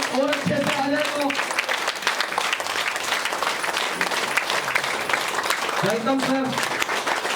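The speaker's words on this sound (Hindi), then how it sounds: "थोड़ी सी तालियों की अगर आवाज और अच्छे से आ जाए तो।" Audience at a cancer prevention session applauds steadily, a dense, continuous patter of many hands, while a man briefly calls out a welcome over it near the start and again near the end.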